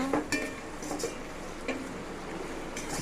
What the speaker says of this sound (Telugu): ఇట్లా ఆనియన్స్ని కలుపుకుంటూనే ఉండాలా, మాడిపోకుండా